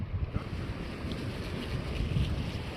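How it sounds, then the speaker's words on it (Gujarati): Wind blows near the sea in a low, steady rumbling rush with microphone buffeting, moderately loud and continuous, with no voices. "આ પવન છે"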